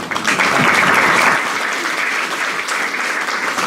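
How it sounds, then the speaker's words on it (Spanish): Loud applause from a congregation at a Sunday church service, steady clapping that fills the space and eases slightly after the first second or so, with no talking. "Regalen un aplauso, Señor."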